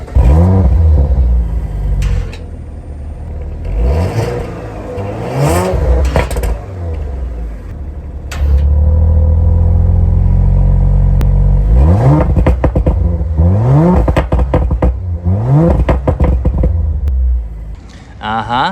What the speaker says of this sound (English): this thing does have the large oval exhaust that all RS cars have